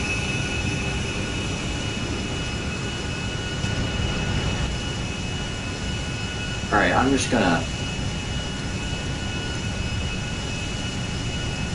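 Jet engines of a passenger airliner in the GTA V video game produce a steady, broad roar that runs throughout, with a person speaking briefly over it near the middle.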